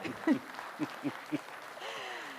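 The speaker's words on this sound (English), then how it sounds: "A huge round of applause for our audience, everyone" A conference audience at a 2019 global partner summit applauds, with short bursts of clapping and cheering over a low hum from the hall.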